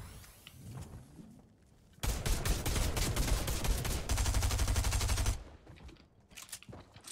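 Sustained automatic gunfire bursts loud and close for about three seconds in a Fortnite match, after quieter ambient game sound, then fades back to sparse distant pops.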